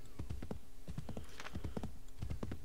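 Horse hooves clip-clop at a quick, steady gallop in Assassin's Creed 3, rhythmic bursts of close, loud hoofbeats with a short pause midway and no talking over them.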